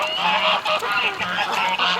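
Geese honk in quick overlapping bursts from close by, loud, harsh calls stacking over one another through a wintry outdoor flock with ducks nearby.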